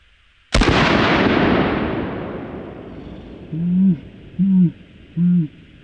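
HK P2A1 flare gun firing a triple-aught buckshot shell: one sharp, loud blast with a long fading rumble, followed by three short hollow tones.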